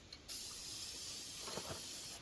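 A can of gloss black Krylon spray paint sprays in one steady, close hiss that starts abruptly and holds loud and even for about two seconds, with no talk over it.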